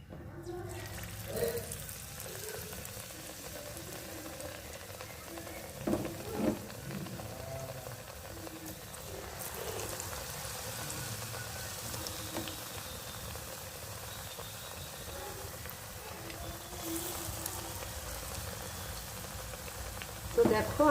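Brinjal slices fry in hot oil with a steady, faint hissing sizzle that runs throughout, broken by a few brief louder crackles.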